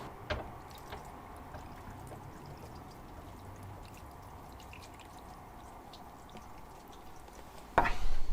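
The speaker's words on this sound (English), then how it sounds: "So I'm going to try and pour water in around here, and you should see it coming out into here." Water is poured around the top of a suspension strut on a Mk6 Ford Fiesta, giving a faint steady trickle and a few drips, then a louder splash near the end.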